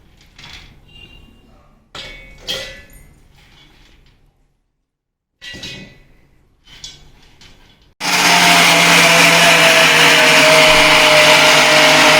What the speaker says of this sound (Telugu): ఒక ½ an hour ఆగి మళ్ళీ మిక్సీ పెడదాం మనం.